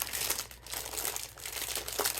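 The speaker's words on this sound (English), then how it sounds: "I have some 12 by 12 white paper. I wouldn't call it card. You can hear how flimsy it is." Flimsy 12 by 12 inch white paper crinkles and rustles continuously as it is handled up close, a thin, papery crackle with no talking.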